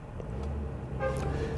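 A bus passing along a city street in Sochi, a steady low engine rumble with traffic around it and a short car-horn toot near the end.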